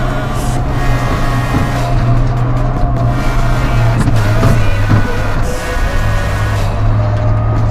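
A new tractor's engine runs with a steady, loud droning hum and slight surges in revs, heard close up throughout.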